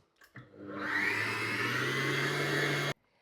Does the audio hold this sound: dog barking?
no